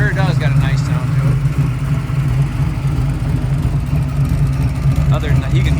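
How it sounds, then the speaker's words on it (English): A 1966 Chevy II Nova with a built small-block V8 idles close by, giving a steady low, lumpy rumble that carries the ticking of a small exhaust leak. Someone talks over it. "you can hear that little pesky exhaust leak there"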